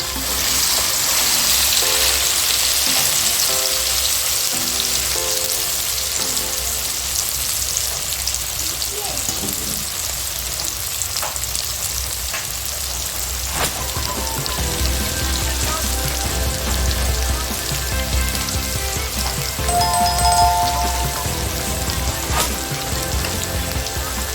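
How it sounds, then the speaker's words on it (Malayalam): Okra frying in hot oil, a steady, dense sizzle and crackle that holds all the way through with no pauses. "ഇത് എണ്ണയിലേക്ക് ഇട്ട് നമുക്ക് വറുത്ത് കോരിയെടുക്കാം."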